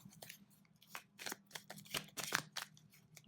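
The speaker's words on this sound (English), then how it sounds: "I'm just going to shuffle them." A tarot deck is shuffled by hand, a run of quick, crisp riffling and slapping card sounds in an irregular rhythm, close and fairly quiet, with no talk.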